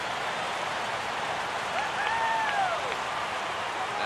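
A large baseball stadium crowd of about 35,000 in the MLB The Show 15 video game cheers and applauds as a steady, dense roar. A commentator's voice is faint beneath it.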